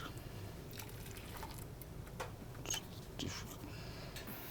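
Saffron-infused liquid is poured into a serving pot, a faint, quiet trickle with a few soft drips over low background rumble.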